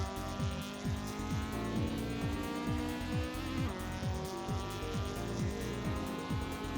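Race car engine in the Assetto Corsa video game on the Grand Valley East track, revving loudly through repeated rising gear sweeps, each climb cut by a quick shift, continuous and close.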